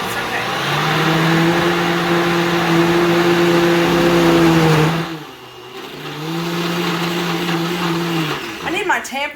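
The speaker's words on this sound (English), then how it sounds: "we're just gonna have to stir it occasionally here to make sure that we're getting everything blended well" A blender whirs loudly on butternut squash pasta sauce with a steady motor hum, cuts out briefly and then starts again, ending in a few rattling bumps.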